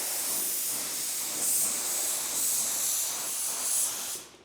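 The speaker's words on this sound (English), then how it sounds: "I'm spraying it like this." Spray gun atomizing paint in a steady continuous hiss with slight surges, close and loud, cutting off abruptly at the end as the trigger releases.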